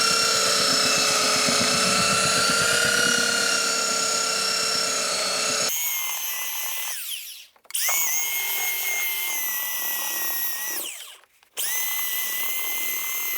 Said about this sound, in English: I'm actually using a 40 grit sandpaper on this belt sander.